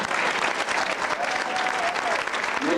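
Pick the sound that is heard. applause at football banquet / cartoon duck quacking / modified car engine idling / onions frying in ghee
applause at football banquet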